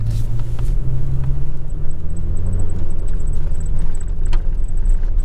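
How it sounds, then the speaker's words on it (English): A 2023 Toyota Tacoma Lunar Rock drives over a washboard dirt road, giving a continuous low rumble with rattling road noise and faint jangling inside the cab, steady and close. "here we got our first ride on a washboard"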